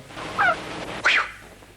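A hen squawks twice in a film as it is struck, two short, harsh, close cries separated by a brief pause, loud and alone with no talk.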